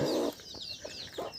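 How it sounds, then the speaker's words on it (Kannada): A native country hen clucks low and briefly, and then her newly hatched chicks answer with several thin, high peeps spread across a quiet moment. "ಕೋಳಿ ಇಳಿಸ್ತಿದೆ ಗೂಡಿಂದ, ತೋರಿಸ್ತಾ ಹೋಗ್ತೀನಿ ಬನ್ನಿ"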